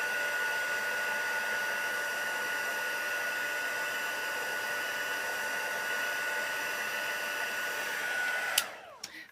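A hair dryer blows steadily over wet paint for a bokeh-style painting, a loud, even whoosh close by for about eight and a half seconds before it clicks off and winds down.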